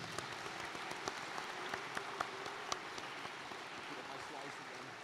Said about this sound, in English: Round of applause for Eric's presentation